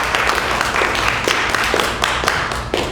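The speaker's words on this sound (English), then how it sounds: "Give yourself a round of applause," Loud, close applause from a Sunday Assembly congregation, a thick, continuous wash of many people clapping at once with sharp individual claps standing out, steady for three seconds and no voices over it.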